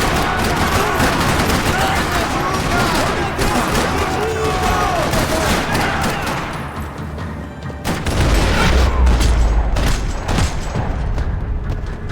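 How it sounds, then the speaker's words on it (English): Rattling gunfire fills a parking lot in Max Payne 3, with dense bursts of automatic shots and heavier booms continuing loudly all the way through. "Another parking lot rattling with gunfire."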